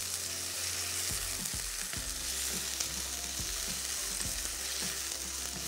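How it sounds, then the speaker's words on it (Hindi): Chicken pieces frying to a light golden colour in hot oil, a steady loud sizzle and crackle with occasional soft stirring bumps, continuous and close, no voices. "यहाँ पे खूब अच्छी तरीके से इस चिकन को आपने लाइट गोल्डन कलर में फ्राई कर लेना है।"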